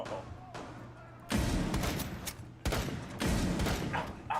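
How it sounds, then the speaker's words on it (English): A flashbang grenade goes off in a video game shooter, delivering sharp, loud bursts against a quieter backdrop, with a couple of abrupt jumps in volume and a player's voice nearby. "That flashbang was so far away and it still got me."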